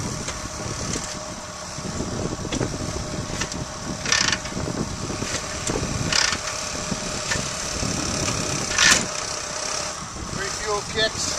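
A 1941 Harley-Davidson EL engine, still cold from a cold start, idles with a steady close rumble, while a few sharper mechanical clicks sound over it.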